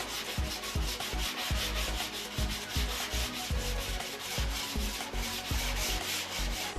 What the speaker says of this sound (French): Il vaut mieux poncer le fond et les bords des planches à bosse afin d'obtenir une surface plane